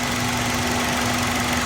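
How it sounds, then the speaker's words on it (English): An Acura RSX engine runs steadily during a VTEC solenoid test while in limp mode, giving a constant close, even hum with a steady tone and no audible pitch change or talk. "once it switches to VTEC solenoid, the engine should change pitch, because obviously it's going into VTEC mode."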